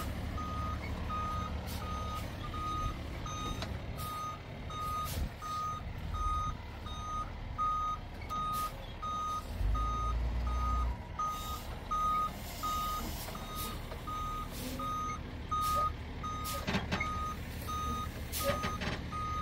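A heavy truck reverses with a steady, evenly spaced series of loud electronic reversing beeps over its rumbling engine, continuing throughout with no talking.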